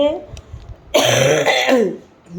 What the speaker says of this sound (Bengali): দেখেছো কী বিভৎস কাশি হয়েছে আমার